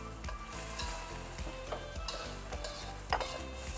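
Pork belly stirred while frying in a pan: a steady close sizzle with repeated scraping and stirring strokes, no voices.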